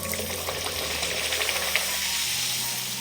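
A puri fries in hot oil with a steady, close, loud hiss and crackle that stays even throughout, with no voices.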